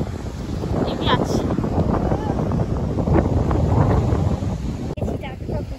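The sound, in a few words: wind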